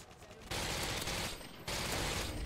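Sustained bursts of M240 machine gun fire in the game Modern Warfare 2 (2009), a loud dense rattle of rapid shots with a short lull between two long volleys.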